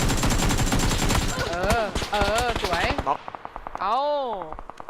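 Rapid bursts of gunfire from the battle royale video game PUBG crackle loudly in the first seconds, mixed with overlapping talk from players, then trail off into speech.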